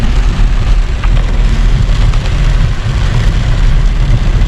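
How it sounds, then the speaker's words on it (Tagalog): Heavy rain drums steadily on a Suzuki S-Presso driving a foggy mountain road uphill in Tinoc, Ifugao, a loud dense wash with low road and engine rumble beneath, no voices. "Bigla na naman ang lakas ang ulan."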